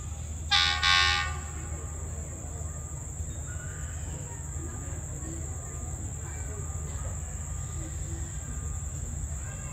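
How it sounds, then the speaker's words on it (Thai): SRT rapid train 170 from Yala to Krung Thep Aphiwat pulls into Surat Thani station at night; a horn blast sounds early, then a steady low rumble continues while insects chirp in the background. "ขบวน170กำลังเข้าสุราษฎร์นะครับ"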